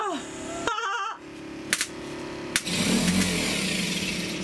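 A freshly cleaned sailboat engine starter motor spins in short bursts with rough, uneven whirring and clunks, then a louder grinding run near the end.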